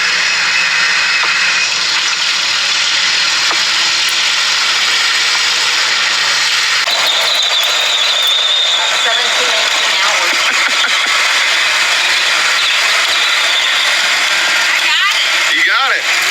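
Drag truck engine roaring steadily and loudly during a burnout, a dense continuous rumble and scream that shifts in tone partway through, with voices faintly mixed in.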